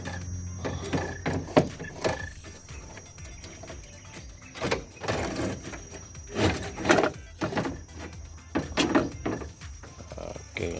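Radiator being pulled out of a Perodua Kancil during a radiator and thermostat service, giving a run of close, irregular knocks, scrapes and plastic clunks with no talk.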